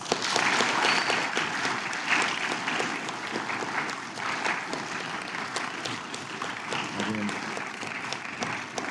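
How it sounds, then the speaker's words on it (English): Applause for a choir after a concert, many hands clapping in a continuous, moderately loud wash with individual sharp claps standing out, tapering slightly toward the end. "So can we give everybody a round of applause?"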